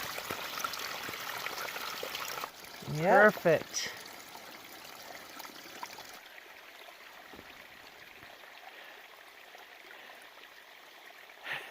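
Water streams from a spout into a bag on a Continental Divide Trail hike in Montana, giving a soft continuous trickle and splash under brief spoken remarks, then quieting to a faint flow.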